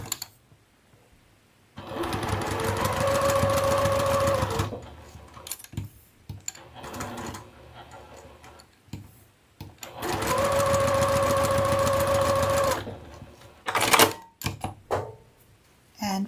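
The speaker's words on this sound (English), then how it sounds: "Stitch down the open edge and the opposite edge." A sewing machine stitches down the open and opposite fabric edges of a lanyard-style commuter wallet in two steady bursts of about three seconds each, separated by a quiet pause with faint handling noise.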